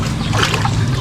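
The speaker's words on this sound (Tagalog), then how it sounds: "Lagyan natin ng tubig tabang." Fresh water pours steadily over mudfish held in a container at a fishpond, a continuous close trickle and slosh that keeps going the whole time with no talk.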